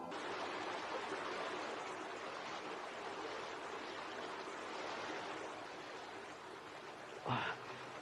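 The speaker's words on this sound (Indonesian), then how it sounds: "Air terjun hulu sungai Tembesi." A waterfall at the headwaters of the Tembesi river pours out a steady, broad roar of falling water, even and continuous, with a brief sharper splash or knock near the end.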